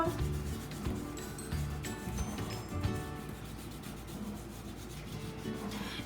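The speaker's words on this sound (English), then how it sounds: "using the side of the crayon in this rubbing technique makes a soft texture" A crayon dragged on its side across paper laid over a chick collagraph plate makes a soft, continuous scratchy rubbing sound, close and fairly quiet, with slight rhythmic strokes and no talking.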